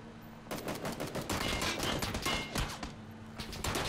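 Rapid gunfire in the battle royale shooter PUBG, dense bursts of automatic shots and cracks crowding together after a brief quiet start, fairly close and continuous for several seconds with no talk.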